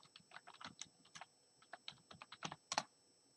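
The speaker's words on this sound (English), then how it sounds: "what I'm going to try to do is log in and go ahead and see if it's using the same password I" Close keystrokes on a computer keyboard as a password is typed at a login, an irregular run of quick clicks with short pauses and a final cluster of sharper taps, with no talking.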